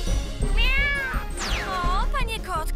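A cartoon cat meows several times in quick succession, bright rising and falling cries, close and clear over a voice speaking in Polish in an animated series.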